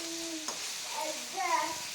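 Tomatoes sizzle in hot oil in a pan while a brinjal curry cooks, a steady close hiss with some stirring and faint voice-like tones over it.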